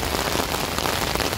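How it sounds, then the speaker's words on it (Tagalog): Heavy rain pours down outdoors, a loud, steady dense hiss of drops on surfaces, close and continuous throughout with no voices. "Mga beshi, ang ulan."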